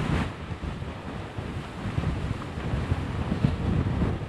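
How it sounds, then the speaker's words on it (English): Strong hurricane Ike winds buffet the microphone in a heavy, sustained roar, with rumbling gusts surging and battering throughout, no voices heard. "Wow, that was a heck of a gust."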